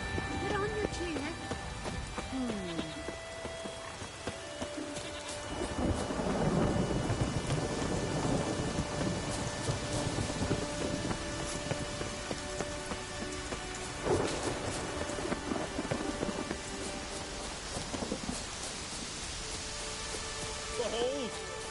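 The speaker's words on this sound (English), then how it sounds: "It's raining." Steady rain and rolling thunder in The Witcher 3, a constant hiss of rainfall on surfaces with low rumbles swelling in the middle, a voice speaking briefly over the storm.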